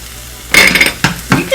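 Green onion and spinach hit a hot pan, giving a sudden loud sizzle that flares, dips, then surges again in two more bursts, with faint stirring and utensil contact close by.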